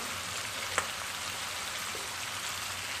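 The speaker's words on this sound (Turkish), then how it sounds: "Evet arkadaşlar şimdi bezelyelerimizi şöyle bir karıştırıyorum" Peas in a pot give off a continuous soft sizzling hiss as they are stirred, with a faint clink of utensil against pot and no voice over it.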